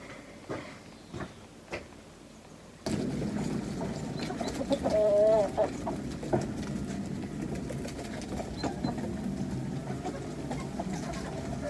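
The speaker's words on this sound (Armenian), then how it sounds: "դե գնանք մի արդեն ցորեն տանք հավերին" Hens cluck and squawk as they are fed wheat grain, their calls close by over a steady broadband background from about three seconds on, after a quieter start with a few scattered sounds.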